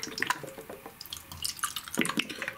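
Liquid drain cleaner gurgling and dripping into a drain with a hair clog, with intermittent splashy trickles and small drops, fairly close and moderately quiet.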